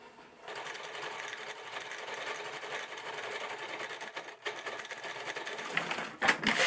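A sewing machine stitching trim onto a fabric pocket potholder runs in a steady, close mechanical whir, pausing briefly midway before resuming, with a few handling clicks at the end.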